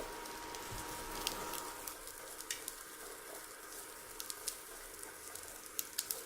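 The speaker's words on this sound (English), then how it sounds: "We can just put in our asparagus in there and give a little" Asparagus sizzles as it is stirred in melted butter in a frying pan. A steady, close, soft hiss carries light scattered pops and crackles, with no talk.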